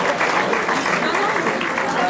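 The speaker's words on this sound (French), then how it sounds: "vous méritez bien les applaudissements que nous avons servis tout à l'heure" Dense, sustained applause from a crowd at a school sports excellence gala, loud and continuous with no breaks.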